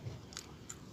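Biting into crispy fried banana tree bark: two quick, faint crunches less than a second apart, heard close up with no talking.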